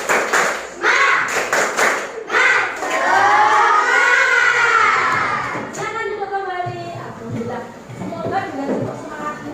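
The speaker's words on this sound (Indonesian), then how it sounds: "Kita tepuk semangat terlebih. 1, 2, 3. Tepuk semangat." A group of schoolchildren in a classroom claps a rhythmic spirit clap, a quick patter of sharp claps at the start, followed by children's voices chanting together and continuing over fainter taps.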